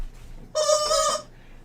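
A short burst of chicken clucking, loud and close, lasting about half a second with quiet before and after.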